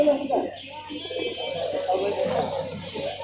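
Giribaz pigeons coo softly amid the murmur of a busy pigeon market in Meradia, Dhaka, with people talking nearby over a steady crowd background.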